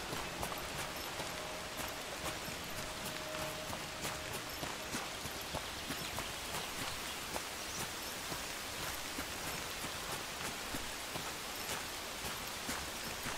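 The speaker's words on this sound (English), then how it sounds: "Raining." Steady rain falls in the video game Among Trees, a soft even hiss with scattered drips and taps pattering throughout at low volume, with no speech.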